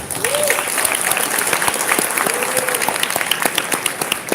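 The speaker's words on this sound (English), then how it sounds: "Let's clap our hands for them one more time." A crowd at a leadership summit claps for a group of high school students, a sustained, loud burst of many hands with a couple of faint whistles rising above the clapping.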